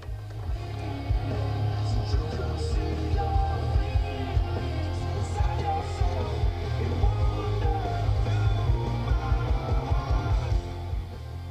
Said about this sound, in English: I can show that to you, playing a CD 3 Doors Down